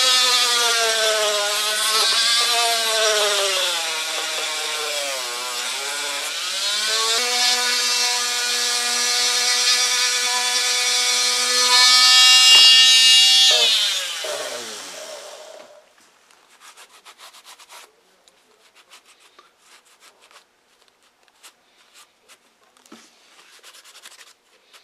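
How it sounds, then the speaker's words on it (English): Dremel rotary tool spinning a hardwood burnishing bob against the edge of a leather knife sheath, a loud steady whine with shifting pitch for about fifteen seconds, then stopping, leaving only faint scattered ticks. "I'm using a Dremel tool here."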